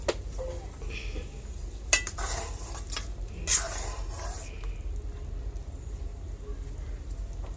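Fried hilsa fish pieces go into a pot of simmering vegetable curry, heard as clinks of a metal utensil against the pot, a few soft stirring scrapes and a faint bubbling hiss, with someone speaking between.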